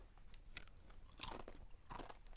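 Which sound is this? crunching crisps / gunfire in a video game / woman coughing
crunching crisps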